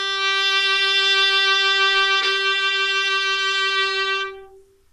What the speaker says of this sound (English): Or we have a higher point of contact, that's if the bow is closer to the bridge.